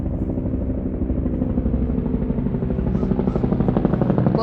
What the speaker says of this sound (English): we're having helicopters fly over